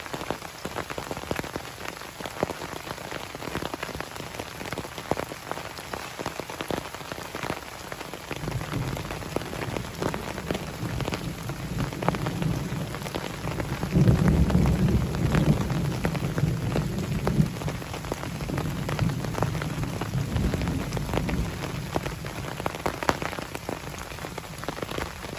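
Rain falls hard outdoors at a stealth campsite, dense drops pattering steadily throughout, while deep rumbles of thunder swell in the middle and later part; no one speaks.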